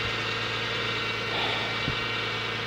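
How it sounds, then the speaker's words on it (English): A running Toyota 1MZ-FE V6 engine idles steadily with a constant whirring hum from its alternator, close and even throughout with no talk. "Don't mind that whirring noise, that's just the alternator working"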